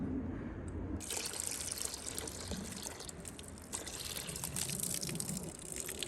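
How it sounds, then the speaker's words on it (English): Water is poured into an animal's water dish outdoors, a steady splashing trickle that starts after a second and continues close and unbroken. "I just gotta put a little bit of water"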